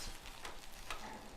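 Hot dogs frying in a pan as a breakfast dish, with a steady broadband sizzle and a couple of brief bursts as the sausages are flipped over, no talking.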